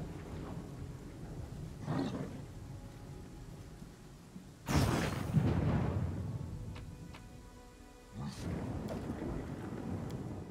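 Thunder and rain from a storm in the Pathfinder: Kingmaker video game: a steady wash of rain with rolling thunder swelling around two seconds, a heavy rumble near five seconds, and another building toward the end.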